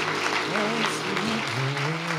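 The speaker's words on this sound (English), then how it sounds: "let's give God a hand clap of praise" A church congregation claps in praise, a steady wash of applause mixed with voices and sung or spoken tones over it.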